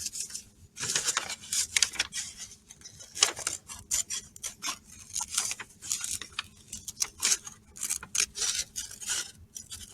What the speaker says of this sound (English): Okay, so now I've cut my hand out.